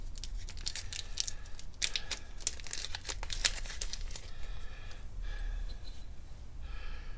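Small generic plastic parts bag for a Subaru EJ25 wrist pin service plate seal being handled up close, with steady crinkling and crackling that has a few sharper rustles, and no voices.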